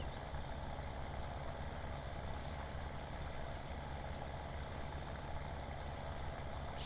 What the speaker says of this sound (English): then we can take the tractor back to the yard